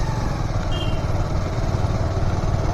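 A motorcycle engine drones steadily and close on an Independence Day bike ride from Siliguri toward Tindharay, a constant, rough, mid-pitched rumble with no pauses or voices.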